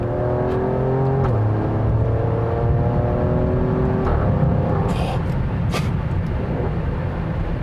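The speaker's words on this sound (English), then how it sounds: "that's some serious business from the exhaust" A 2020 Alfa Romeo Stelvio Quadrifoglio performance SUV engine revving and whining up and down, close by, with a couple of sharp crackling bursts from the exhaust near the end.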